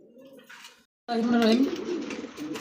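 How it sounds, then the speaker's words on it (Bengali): Pigeon coos from top-quality racing pigeons, low murmuring calls that swell loud after a brief gap, mixed with chatter and voices nearby. "টপ কোয়ালিটি গড়া কবুতরদের শুরু করলাম"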